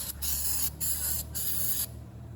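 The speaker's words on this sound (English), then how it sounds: "we mostly spray it down like this here" Three quick bursts of brake cleaner aerosol spray hiss close by on a 2015 Jaguar XJ 3.0 supercharged engine, the last one longer, ending abruptly with a low hum underneath.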